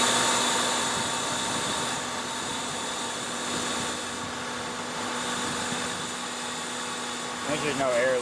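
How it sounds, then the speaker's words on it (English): A 2000 Honda Accord with a short ram intake idles close by, a steady airy hiss of intake suction over the engine hum, while a person talks quietly over it. "So it's making a lot of sucking noise from there."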